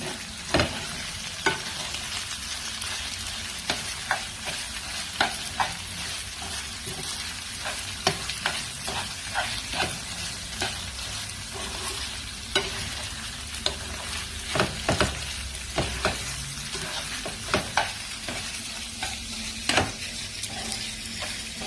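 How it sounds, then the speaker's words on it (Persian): Tomato paste and meat frying in oil sizzle steadily while a utensil scrapes and stirs the pan in frequent light strokes, close up and without talk. "وقتی کاملا با روغن چرخ بخوره رب خیلی خوش رنگ تر میشه"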